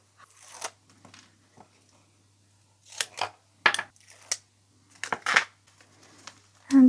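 Scissors cut out a shape for a Christmas craft in quiet, close snips. Single cuts alternate with quick clusters of two or three, separated by short silences.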